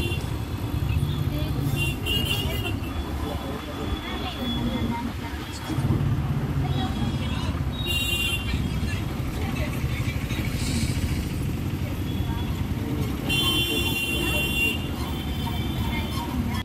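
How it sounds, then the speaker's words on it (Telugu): An APSRTC super luxury bus rolls along near Jadcherla, its engine drone steady and loud under a continuous wash of road and traffic noise, with faint horn-like tones and people talking over it. "హైవే క్రింద నుండి బస్టాప్ వైపు మన బస్ ఇప్పుడు వెళుతోంది."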